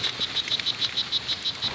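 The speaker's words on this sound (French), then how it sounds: "nous sommes entourés de milliers des minuscules grenouilles vénéneuses" Tiny poison frogs call along a Costa Rica trail, a steady run of quick, high, evenly spaced chirps over a faint hissing backdrop.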